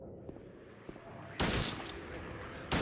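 Video game gunfire: two loud, sharp blasts, one at the midpoint and one near the end, each leaving a brief ringing tail over a low background rumble.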